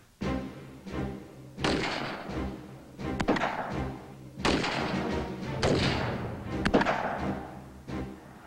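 Rifle shots fired at a target during close quarter battle training sound as a series of heavy muffled booms, about half a dozen irregularly spaced, each with a short rumbling tail.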